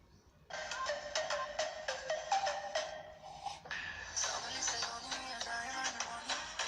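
A song plays as the ringtone of an incoming call on a phone, thin and tinny from a small speaker, continuous and fairly quiet with a rhythmic melody and no talking.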